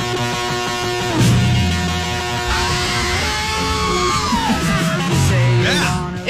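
R2-D2's electronic beeps and warbles are mixed with a loud, sustained classic-rock scream in the style of John Lennon, the whole sound dense, bright and continuous for several seconds.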